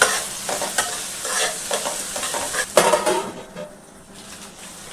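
Onion and curry leaves frying in a pan while stirred with a spoon, a loud close sizzle with busy scraping and clinks against the metal, easing into a quieter hiss toward the end.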